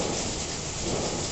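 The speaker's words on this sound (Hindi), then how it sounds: "इतनी तेज बारिश हो रही है" Heavy rain pours in a dense, steady roar, loud and close, with no voices.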